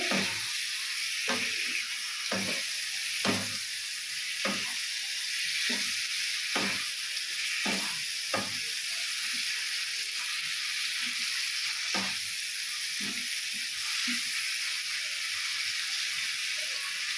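Prawns and boiled potatoes sizzling in a frying pan during stirring for a prawn curry, a constant hiss of frying with repeated soft scraping knocks of a spatula in an irregular rhythm, no voices.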